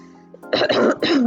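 A person clears their throat and coughs a couple of times, close and fairly loud.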